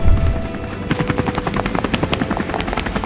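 A helicopter's rotor thuds in a rapid steady pulse, loud and close, following a brief low rumble at the start, from a Doctor Who audio drama.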